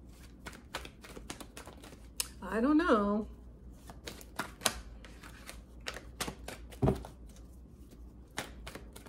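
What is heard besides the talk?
shuffling a deck of tarot cards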